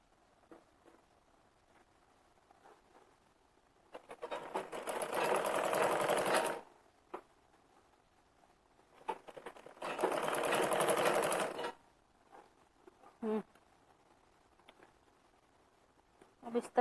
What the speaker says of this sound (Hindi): इस तरह और यहाँ से फ्रेश सिलाई लगा देती हूँ।